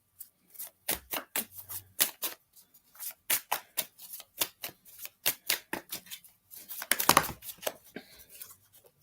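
Tarot cards are shuffled by hand in a quick series of crisp riffles and slaps, some cards flying out of the deck, with a dense flurry toward the end.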